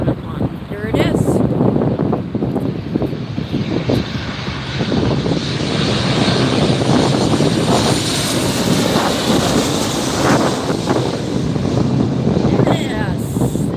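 A Southwest Boeing 737 in California One livery passes close at LAX, its jet engines building into a loud, broad roar with wind buffeting the microphone, and people talking over it.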